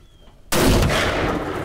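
A single loud rifle shot cracks out during a deer hunt on opening day, a sudden close blast after near silence, followed by a long echoing rumble.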